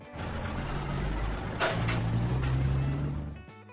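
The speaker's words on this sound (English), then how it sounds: "Dump truck." A dump truck drives past, its broadband engine rumble and road noise holding steady and fairly loud for about three seconds before cutting off.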